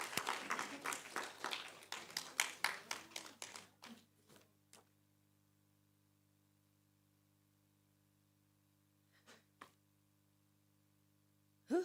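Audience applause welcoming a speaker at a university research indaba, a dense burst of clapping that thins out and stops within about four seconds, followed by near silence with a few faint stray sounds.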